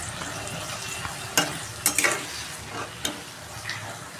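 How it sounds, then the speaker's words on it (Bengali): Sliced ridge gourd stir-fried with spices in a pan, a soft steady sizzle broken by a few sharp scraping clicks of a spatula stirring against the pan. "এই মশলার সাথে ঝিঙেগুলো একটুখানি হালকা ফ্রাই করে নেব বা একটু কষিয়ে নেব"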